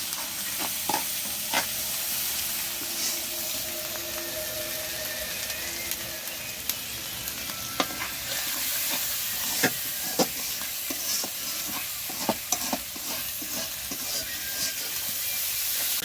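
Spice masala stir-frying in a pan for a chickpea dish, a constant close hiss of frying broken by frequent sharp scrapes and taps of the spatula, with no talking.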